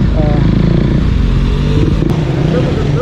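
A Benelli Leoncino 500cc motorcycle engine revs loudly and close up with a deep, throbbing rumble. A voice is briefly heard over it.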